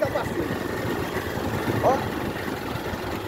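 A motorcycle passes along a road in northern Minas Gerais, a continuous engine drone that swells slightly and fades, with a voice speaking briefly over it.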